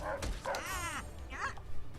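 Dogs in South Park: The Fractured But Whole bark and yip in quick, close bursts, a few sharp woofs mixed with higher whining yelps over game background sound.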